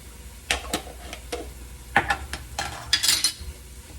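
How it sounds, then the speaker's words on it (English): Garlic sautés in a pan with browned ground beef and is stirred around, giving a low sizzle broken by uneven, close spoon scrapes and clinks against the pan. "I'm going to add just a good little spoonful of garlic."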